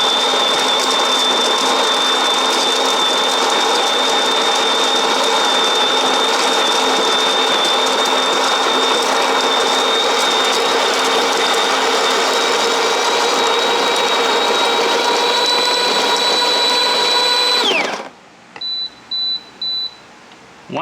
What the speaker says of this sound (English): So right now you want to get a fresh kind of espresso, you put that in and let's do it.